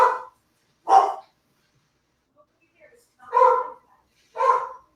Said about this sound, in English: I can hear a dog fight.